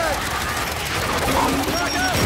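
A frag grenade goes off in the Gears 5 campaign, a dense rolling blast of gunfire and explosion noise filling the short stretch, loud and continuous.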